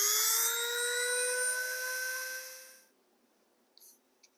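A Dremel fitted with a grinding bit cuts a circular shape out of a piece of wood, a high, steady whine that slowly winds down and stops, followed by silence and a couple of small clicks.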